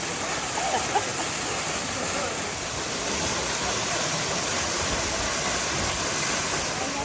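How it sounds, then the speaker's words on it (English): A waterfall in Dominica roars as a steady, broad rushing wash of falling water, loud and close, with no break. "But check out that waterfall."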